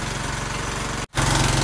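A Honda GX160 generator engine running on a GEET system holds a loud, steady mechanical drone, broken by one brief dropout near the end before it resumes even louder.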